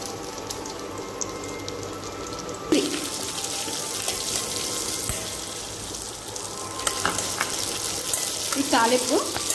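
Cumin, mustard seeds, red chilli and curry leaves sizzle in hot oil for a tomato-mint chutney tempering: a steady, close crackle with a few sharper pops and clinks near the end.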